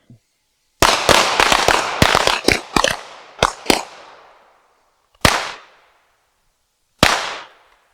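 Handgun shots at a shooting range drill, a rapid string of sharp loud cracks followed by two more spaced single shots, each ringing out briefly before silence.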